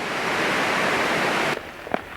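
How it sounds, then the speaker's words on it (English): Snow melt pours down cliff sides as waterfalls beside a canyon trail, making a loud, dense, steady roar that cuts off abruptly partway through, leaving only faint scattered clicks. "All the snow melt is pouring down the side of the trail, turning cliff sides into waterfalls that otherwise were dry."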